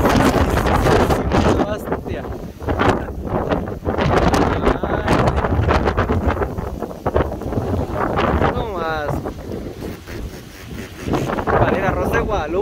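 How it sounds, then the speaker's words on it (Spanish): Strong wind during a first rainstorm buffets the microphone in loud, continuous roaring gusts, with someone talking intermittently underneath. "La verdad, sí está fuerte el aire"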